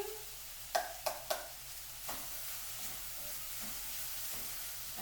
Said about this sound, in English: I hope you can hear it sizzling.